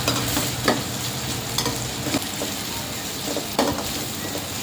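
Capsicum, carrot and beans being sautéed in a pan for fried rice, with a continuous close sizzle broken by several distinct scraping stir strokes.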